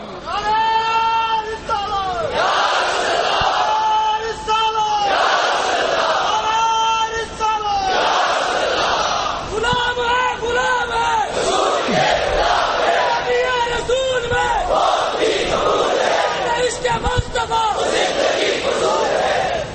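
A large crowd at a religious sermon chants slogans in loud, repeated unison bursts, the call-and-response waves continuing steadily throughout.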